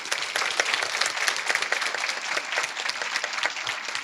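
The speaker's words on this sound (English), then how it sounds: "Can we give them one more round of applause," Steady audience applause at a coronation ball honoring the Chicopee Colleen court, dense and even clapping from a large indoor crowd that holds at full strength throughout without a break.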